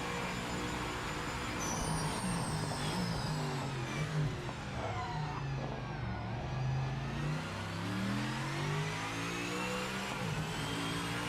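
A racing car engine in the video game Project Motor Racing drones steadily, revving up and down in pitch with a continuous mid-range roar, with no voices over it.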